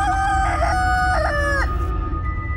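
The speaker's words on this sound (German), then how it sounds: "der Hahn auf dem Brunnen, als er sie sah, rief" A rooster perched on a well crows one long cock-a-doodle-doo over a dense, rumbling backdrop, loud and fairly close, its call rising and then trailing off.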